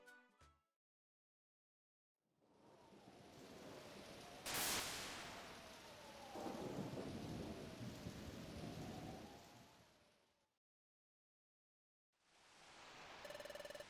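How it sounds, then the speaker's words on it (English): A thunderstorm in the Pokémon Mystery Dungeon video game, with steady heavy rain and a sharp thunder crack followed by rolling rumble. It fades out, then the rain returns after a short silence. "It sounds like a storm is coming."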